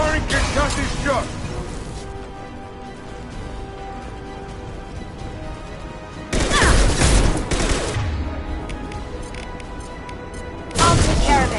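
Concussive shot fired in Mass Effect 2, heard as two heavy blasts about four seconds apart, loud over ongoing game music and ambience.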